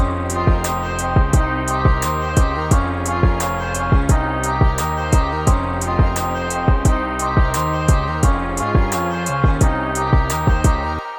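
A full hip-hop beat plays with all parts together: punchy kicks and sharp snares in a steady loop under bass and layered melodic chords, loud and continuous with no voices.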